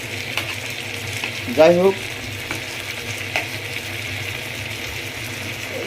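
Meat frying in a pan, a continuous sizzle with a louder burst of stirring midway; a voice speaks briefly over the cooking.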